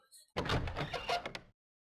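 A heavy door opening in the survival horror game Silent Hill 2, a single loud clunking creak with a rattling mechanism lasting about a second before cutting off to silence.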